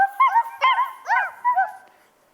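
Children's voices imitate little dogs barking, giving about five quick, high 'ruff' yaps in a row on stage at a youth theatre showcase, close and clear against near silence.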